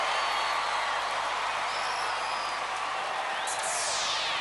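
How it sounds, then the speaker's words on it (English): A TV studio crowd at UK Gladiators, a 1995 Ashes heat, sends up steady broadband cheering and applause that stays loud and dense throughout, with no one speaking over it. "The crowd approving of it, though."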